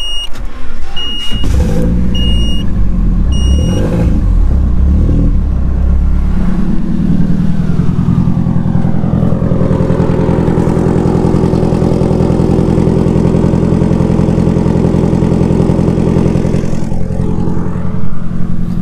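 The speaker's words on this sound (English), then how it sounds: "We're gonna do a little cold start." Car engine cold start on a chilly morning: starter crank and catch, a loud rev, then the engine settling into a steady, rumbling idle, close and loud throughout.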